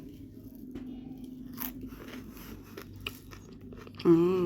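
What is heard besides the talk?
eating fried chicken pakoras with crunchy puffed rice (muri)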